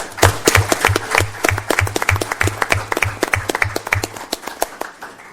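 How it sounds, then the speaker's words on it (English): Applause from an audience at a school board meeting, a brisk burst of many hands clapping over a low rhythmic thump, tapering toward the end. "one last round of applause for her."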